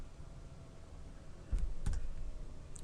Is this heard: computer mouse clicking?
yes